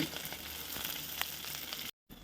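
Onions with mint and coriander frying in a pan give a steady, close hiss and crackle with scattered pops, broken by a brief silent gap just before the end.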